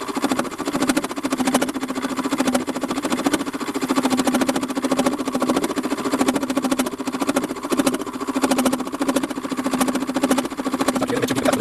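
Warco metal lathe taking a cut of about a millimeter on a shop-made quick change tool post part, a steady rapid mechanical hum and rattle with a continuous tonal whine, close and unbroken.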